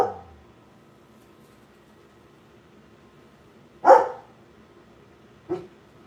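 A female dog barks in short, loud bursts indoors: one at the very start, a strong bark a few seconds later, then a shorter, softer one, with quiet between them.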